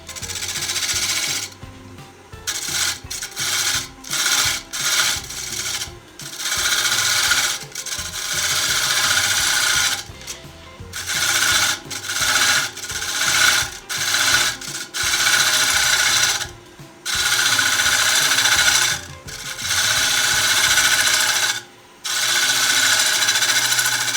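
A wood lathe spinning at about 1000 RPM while a half-inch gouge cuts the turning workpiece, producing loud bursts of rough shaving noise broken by brief pauses over a steady mechanical hum.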